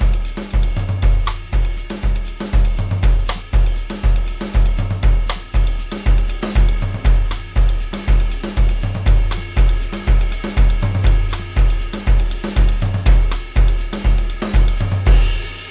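Jazz Latin groove played on a Nord Drum 3P together with an acoustic drum kit, a loud, close, steady pattern of punchy low hits under constant bright cymbal and percussion strokes, repeating evenly throughout with no talking.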